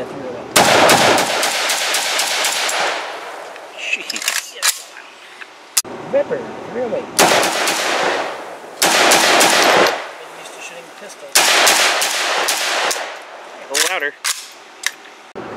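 A Saiga .308 rifle fires at an outdoor range in rapid strings of loud, sharp shots, several bursts separated by pauses, with people talking between them.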